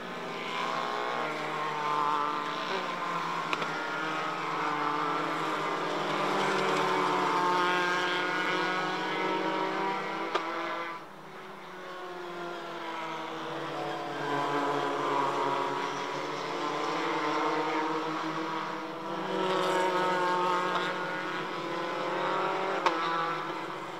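Formula 4 race cars at Padborg Park, including a white and blue car numbered 7, produce a steady, loud engine drone with rising and falling harmonic whine as they pass, briefly dipping before the sound builds again.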